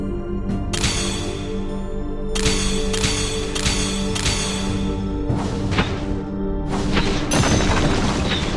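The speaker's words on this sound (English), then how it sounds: "The enemy's turret has been destroyed." Explosion as an enemy turret is destroyed in the MOBA game Auto Chess MOBA, with loud repeated booms and whooshing impacts over a dense layer of in-game battle sounds.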